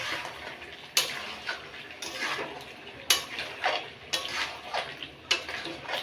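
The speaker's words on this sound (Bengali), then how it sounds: "এবার এটাকে কষাবো, ভালো করে কষবে।" Chicken drumsticks coated in chilli powder, spices and a little sugar being sautéed in a pan, with a soft continuous sizzle broken by regular scraping and stirring strokes, close up and without speech.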